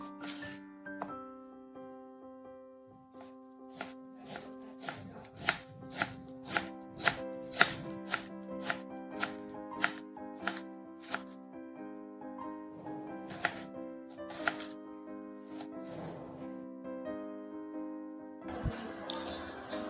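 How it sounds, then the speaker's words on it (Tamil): Two big onions and two green chilies being thinly sliced for a Sri Lankan breakfast, a quick series of crisp knife taps on a cutting board, close by and clear over soft background music. "ஒரு 2 பெரிய வெங்காயம், ஒரு 2 பச்சை கொச்சிக்காய் மெல்லிசாக நல்லா வெட்டி கொள்ளணும்"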